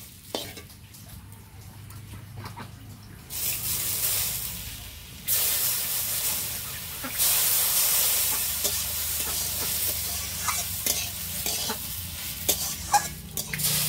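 Semolina and potato being stirred in a pan with water added, a spoon scraping and scooping against the pan over steady sizzling hiss that swells louder partway through, with no talk.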